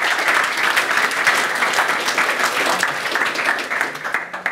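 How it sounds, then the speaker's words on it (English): A conference audience at SwiftConf 2019 claps steadily and densely, a loud, continuous wash of applause that holds throughout. "So let's give Roy a round of applause"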